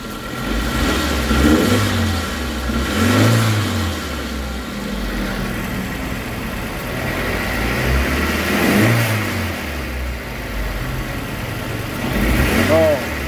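A Suzuki motorcycle engine with a faulty ignition coil idles roughly, its low uneven chugging swelling and sagging in irregular pulses, while someone talks over it throughout.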